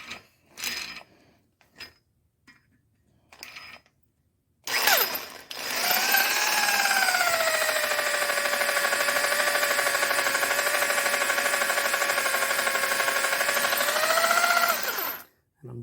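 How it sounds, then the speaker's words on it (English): A power drill bores out a broken bolt in an engine during a cheap rebuild: a few short clicks and bursts first, then a long steady high-pitched grinding whine for about ten seconds that winds down at the end. "And I'm drilling a little bit crooked."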